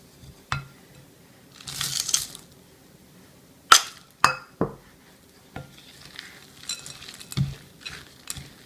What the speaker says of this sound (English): then we're going to switch to a wooden spoon